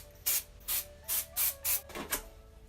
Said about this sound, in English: Taking the Detox Dry Shampoo from Drybar, and I'm just going to spray that.